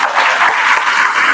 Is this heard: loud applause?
yes